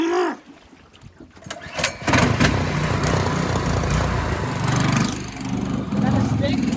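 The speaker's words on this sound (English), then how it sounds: "Alright, so we're gonna try to start this motor up" A brand new motor on a mud skipper boat catches after a couple of quick pulls, then runs loud and close with a rough, uneven rattle while voices are heard nearby.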